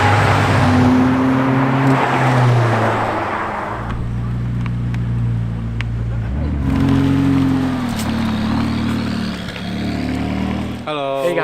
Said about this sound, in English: supercar owners get together at different remote spots of the island and they take their cars for a spin